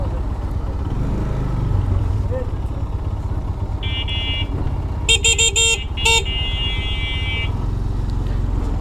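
Car horns honk in a traffic jam on a muddy city road heard from a motorcycle, with a short tone, then a cluster of sharp blasts and a longer honk over steady engine and traffic rumble.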